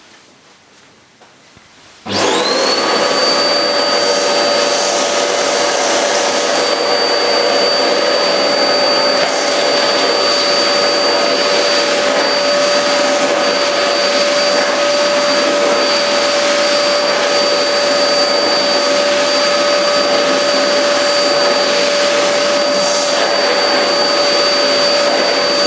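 Goblin GCV301W bagless cylinder vacuum cleaner switching on after a quiet moment, then a loud, steady motor whine and airflow roar running continuously without a break.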